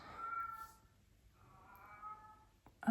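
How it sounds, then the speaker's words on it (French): Indoors, a cat gives two drawn-out, faint meows a second apart, with quiet room tone between them and a soft knock at the end. "Ah, c'est un chat."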